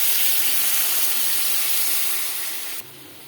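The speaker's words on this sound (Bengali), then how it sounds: "এবার জল দিয়ে দেবো।" Water is poured into a pan of fried spices for rohu fish curry, giving a steady rushing hiss and sizzle that fades slightly before cutting off sharply near the end.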